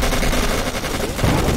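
Dense, continuous machine-gun fire in the Codename: Panzers Phase One war game, loud and unbroken for the whole moment.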